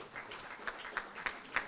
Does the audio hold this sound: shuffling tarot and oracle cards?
no